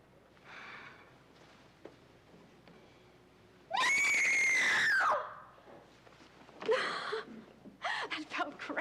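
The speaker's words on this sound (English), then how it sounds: "Then scream." A person lets out a loud, sustained scream lasting about a second, with a rising then falling pitch. Gasping and quieter vocal sounds come before it, and shouting follows.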